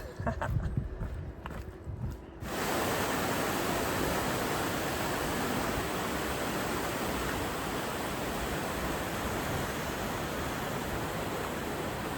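Loud, steady rush of water beside the North Kaibab Trail in the Grand Canyon, a broad continuous roar that starts abruptly after a brief quieter stretch and then holds unbroken to the end.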